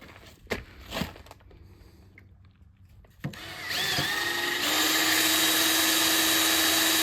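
A power drill countersinks holes in a metal gate, starting with a few sharp knocks and clunks, then winding up into a loud, sustained high-pitched whine that grows steadier and fuller toward the end.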